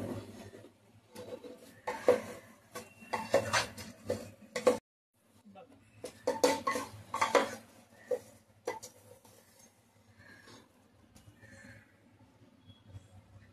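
Rice tossed and stirred in a pan with spices for vegetable pulao, giving repeated scraping and clattering strokes in bursts, fairly close, with a brief pause midway and softer stirring toward the end.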